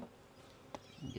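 Honeybees buzzing around an open hive, a close, steady insect hum with a brief louder buzz as a bee passes near.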